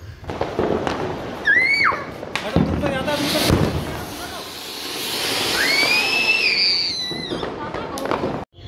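A Diwali anar firework fountain roars with a steady hissing crackle, rising and falling whistles streaking through it, loud and close throughout.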